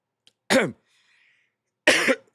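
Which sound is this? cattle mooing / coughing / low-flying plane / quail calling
coughing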